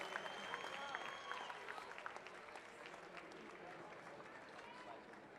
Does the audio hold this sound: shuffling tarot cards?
no